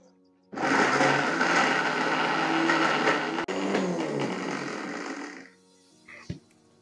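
A mixer grinder jar runs loudly and steadily for about five seconds, blending garlic into a paste with water, its whining motor dipping briefly in the middle before cutting off, followed by a light clunk.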